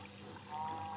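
Water placed in the Minecraft video game gives a brief, soft pouring trickle that swells slightly midway, heard alone.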